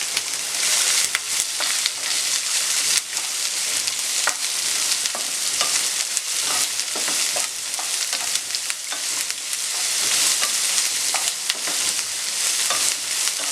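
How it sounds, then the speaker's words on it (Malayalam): Onions for a pork curry masala fry in an oil-filled pan and are stirred toward brown. A constant loud sizzle runs through, broken by frequent scraping clicks of the spatula, close and with no talk. "സവോളയൊന്ന് നന്നായിട്ട് മൂത്ത് ഒരു ബ്രൗൺ കളർ ആവുന്നോടും വരെ ഇളക്കി കൊടുക്കണം."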